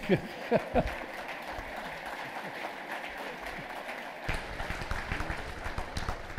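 Lecture audience at a closing motivational talk bursts into sustained applause after a brief spoken phrase, the dense clapping filling the room and growing fuller toward the end.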